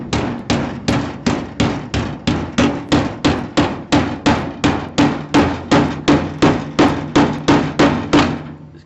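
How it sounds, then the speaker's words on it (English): Steady, rapid hammer blows on an aluminum jon boat hull during body work, about three per second, loud and close with a ringing clang, no voices. "it is time to get your hammer out and do a little body work"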